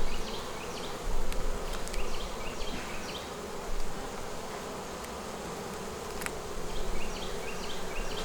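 Honey bees buzz thickly around an open hive that is full of brood and backfilling nectar. The dense, steady hum is close and continuous, with individual bees whining past now and then.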